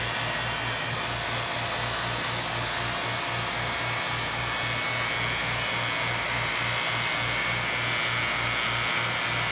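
A vacuum pump drawing air from a chamber drones steadily and loudly close by, a continuous blowing motor hum with a pulsing low throb and no pauses.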